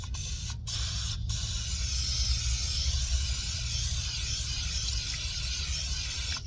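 A continuous spray hiss of cooking oil into a hot pan in a van, steady and close, with two brief breaks early on.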